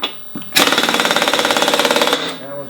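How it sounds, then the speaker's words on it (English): Air impact wrench fitted with a 22 mm extension socket tightens a spindle on a John Deere 48 inch mower deck, a loud close hammering rattle lasting about a second and a half after a brief knock. "I'm going to tighten up these spindle."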